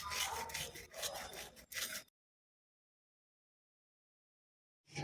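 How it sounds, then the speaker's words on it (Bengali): Nigella (black cumin) seeds are crushed and rubbed between the hands over a cabbage dish in a home kitchen, giving a few close, gritty rasping bursts for about two seconds, then silence before a brief return. "কালো জিরেটা হাতে করে ক্র্যাশ করে নিয়ে দেব"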